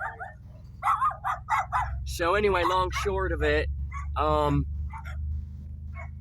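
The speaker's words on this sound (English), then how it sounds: "So, how's that little doggy?" A small dog lets out a run of sharp barks and high yips close by, the barks coming in quick bursts and overlapping with someone talking.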